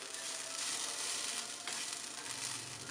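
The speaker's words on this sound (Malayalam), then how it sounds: "ഇനി നമുക്കിതൊരു മീഡിയം ഫ്ലെയിമിൽ വറുത്തെടുക്കാം" Grated coconut tinted with turmeric, fennel seeds and shallots roast in coconut oil over a medium flame, giving a soft, even sizzling hiss that stays quiet and continuous, with no talking.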